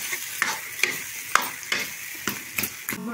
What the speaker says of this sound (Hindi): हम 2 मिनट दोस्तों चूल्हे पर साग को पकने देते हैं।